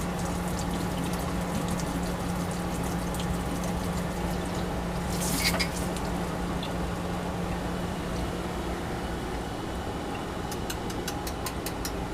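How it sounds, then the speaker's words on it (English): Running water rinses a spatula coated with para-toluene sulfonic acid, a steady hiss with a low mechanical hum underneath, a brief splash midway and light clinks near the end, no talking. "rinse off my spatula that had the para-toluene sulfonic acid in it"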